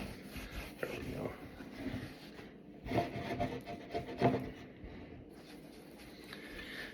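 Boot polish being rubbed into leather boots by hand, a close, soft scuffing and rasping that rises and falls in short strokes, with brief quiet talk mixed in.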